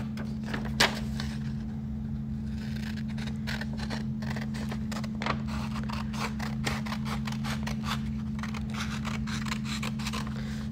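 Scissors snip through folded paper pages for a handmade lockbook, giving a rapid run of close, crisp cuts over a steady low electrical hum.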